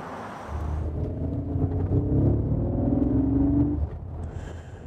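A cockpit sound module in an electric Mercedes G-Class produces an imitation engine note: a low rumbling hum that swells and rises in pitch for a few seconds, then cuts off and leaves quiet ambience.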